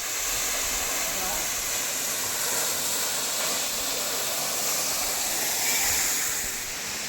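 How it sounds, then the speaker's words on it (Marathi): The Yeram waterfall in Sindhudurg, Konkan, roars as a continuous broadband rush of falling water, steady and fairly loud, with no breaks. "इथूनच आपल्याला धबधब्याचा आवाज येतो आहे"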